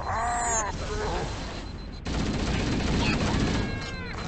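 Rapid bursts of gunfire in the video game Halo: Combat Evolved crackling continuously, with synthetic sound effects and a brief cut in the middle.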